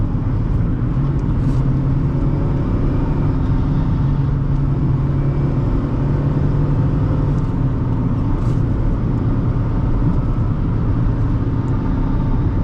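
A 2008 Honda Fit pulls away and accelerates, the engine note rising steadily and then dropping at a gear shift. Road rumble runs underneath throughout, heard from inside the cabin.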